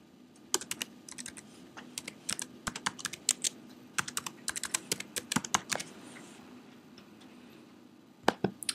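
Password being typed on a computer keyboard, with a rapid, irregular run of close, crisp key clicks that pauses briefly and ends with a couple of final presses over a low steady hum.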